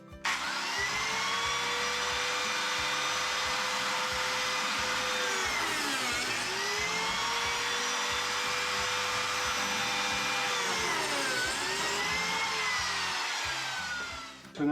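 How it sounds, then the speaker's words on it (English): A biscuit joiner cuts biscuit slots in wood for a monitor shelf, its loud, close motor whining steadily with a dip in pitch as the blade plunges into the board, happening twice. "We're going to cut 2 biscuit slots here, then I'll set up and cut 2 in here."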